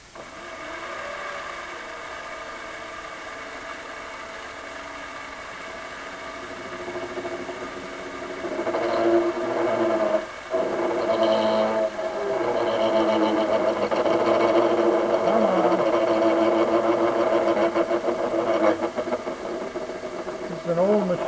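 An old metal lathe with worn bearings and a Shars OXA toolpost parts off oiled brass, giving a steady mechanical whir and hum that grows louder and rougher midway as the feed increases, running continuously throughout.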